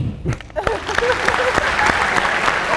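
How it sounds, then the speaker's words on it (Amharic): A stand-up comedy audience in Ethiopia breaks into loud, dense clapping that swells and holds steady, with crowd voices mixed in and scattered cheers across the room. "እዚህ ውስጥ እስቲ በኪራይ ቤት የምትኖሩ ብቻ አጨብጭቡ"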